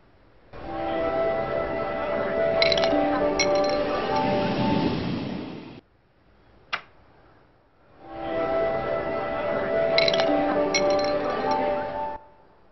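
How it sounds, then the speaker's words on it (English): Glasses clink amid a murmur of party ambience at a classy social event in The Simpsons: Tapped Out, a looped background that plays twice with a short near-silent gap and a single click between. "the sound of just people talking and glasses clinking, and it's gonna be classy."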